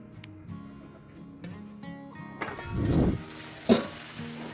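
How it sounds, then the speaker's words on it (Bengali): Chicken for Hyderabadi chicken dry is stirred and fried in a kadai, its lid lifted now and then; soft clinks give way to a short swell of sizzling, then a sharper clatter, all fairly quiet. "ঢাকনা খুলে খুলে কয়েকবার আমি চিকেনটাকে একটু নেড়ে নিলাম যাতে না এটা কড়ার সাথে নিচে ধরে যায়"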